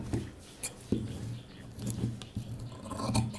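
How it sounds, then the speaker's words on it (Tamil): Scissors cutting blouse cloth during tailoring, close and fairly quiet, with a series of irregular snips and scratchy fabric rustles. "இப்போ நம்ம இத கட் பண்ணிடுவோம் ஃபர்ஸ்ட்"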